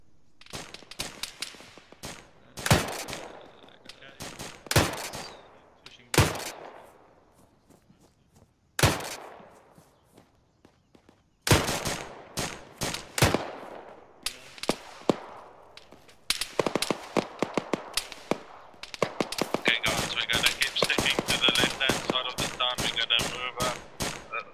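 Video game gunfire crackles in repeated sharp bursts and rapid volleys, some close and loud, others trailing off, building to dense sustained shooting near the end with occasional quiet gaps.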